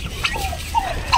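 A broad-breasted turkey gobbles close by, giving short loud warbling calls in a brief burst.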